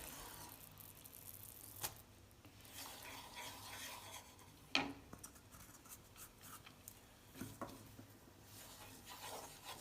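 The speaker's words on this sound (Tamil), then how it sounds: "தேங்காயை சேர்த்து நல்லா கிளறிக்கிட்டே இருக்கணும்" A spoon stirring grated coconut into sugar syrup in a pan for coconut burfi: quiet, repeated scraping and rubbing strokes at close range, with a sharper clink partway through.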